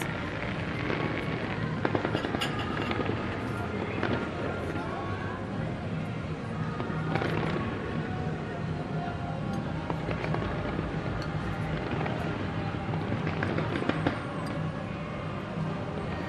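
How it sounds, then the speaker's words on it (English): Fireworks show at Expo 2020 Dubai, a steady wash of crackling bursts and pops across a busy outdoor crowd, with sharper louder bangs scattered through and voices mixed in beneath. "they're back on today with additional fireworks"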